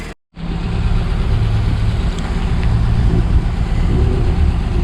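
A Mazda MX5 race car with a new exhaust idles after a short silence, a loud, steady low engine rumble close by with no talking.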